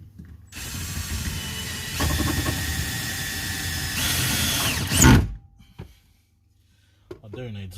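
A power drill drives metal screws into MDF while mounting 12V electronics to a cargo barrier, with several loud, close bursts of whirring and a sharp final clunk as a screw seats, followed by quiet and a brief voice.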